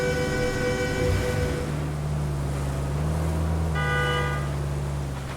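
A car horn sounds in the RoadCraft driving game, two sustained tonal blasts, the first held about two seconds and a second short one later, loud over a steady low engine rumble.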